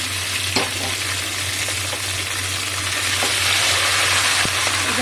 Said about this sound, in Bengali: ঘি আর তেল দিয়ে দিচ্ছি।